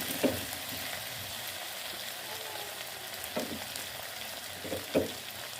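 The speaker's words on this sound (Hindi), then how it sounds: "शिमला मिर्च को हमें ज़्यादा पकाना नहीं है, बस 2 मिनट इसको हमने फ्राई करना है अच्छे से।" Bell pepper fries in a pan with a constant soft sizzle, broken by a few faint scraping knocks of stirring, fairly quiet and without talk.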